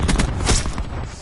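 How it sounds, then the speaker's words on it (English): Cluster grenade detonating in Call of Duty, a quick burst of several thudding blasts that blur together into one loud, booming rumble lasting about a second. "Cluster grenade."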